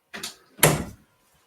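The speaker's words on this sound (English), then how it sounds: "Get this door shut." A door pushed shut nearby, a brief scraping swing followed by a sharp closing thud, then silence.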